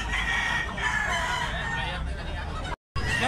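An eight-month-old stag rooster with blue legs crows loudly and close, a long drawn-out call over noisy outdoor background, with other fowl clucking nearby.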